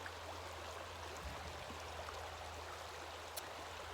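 A river flowing through a forest, a steady, quiet rush of water holding evenly throughout with a low hum underneath and one brief sharper tick near the end.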